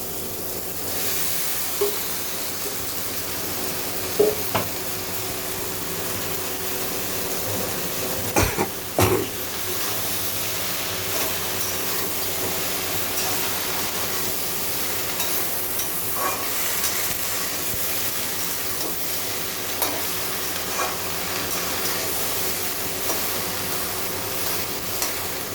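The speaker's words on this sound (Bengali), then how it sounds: "এখন আমি এর মধ্যে ভেন্ডিটা দিয়ে দেব।" Okra frying with spices in a pan, a continuous close hiss and crackle with a couple of sharp knocks partway through.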